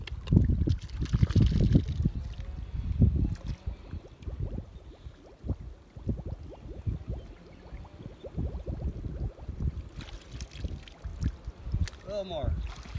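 A sample bottle fills with stream water, giving a continuous gurgling, trickling splash near the microphone over the flow of the stream, with a voice speaking at intervals.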